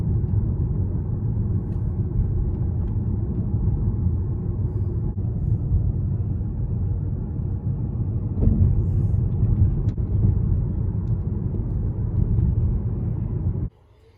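A Chevrolet Cruze with a vacuum leak drives along, giving a steady low road and engine rumble heard from inside the car for about fourteen seconds with no talk, before it cuts off abruptly.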